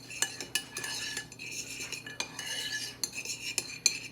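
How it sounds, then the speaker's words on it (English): A utensil stirs deviled egg yolk mash seasoned with salt and pepper in a bowl, producing close, quiet scraping with repeated sharp clinks against the dish at an irregular rhythm. "I'm going to stir that up. in with my yolk there."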